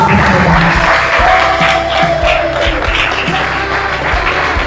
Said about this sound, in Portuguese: Aplaude Jesus e deixe de agradecer.